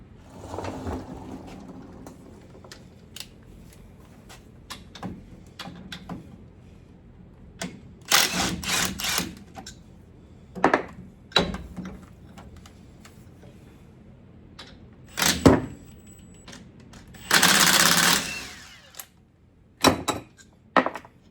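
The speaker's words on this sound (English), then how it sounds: "we're going to be taking the caliper off, which is going to be a 16 millimeter" Tool work on a 5th-gen Ram 2500 rear brake caliper, with a 16 mm socket loosening the caliper bolts: several short bursts of ratcheting or clattering metal at mid distance, separated by quiet gaps, with no talking.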